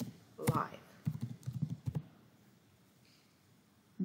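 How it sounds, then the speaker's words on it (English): Computer keyboard keys tapped while entering a search into a LinkedIn search bar, a short cluster of soft, close clicks at a quiet level, with a voice speaking around them. "you can simply type in the search bar LinkedIn Live"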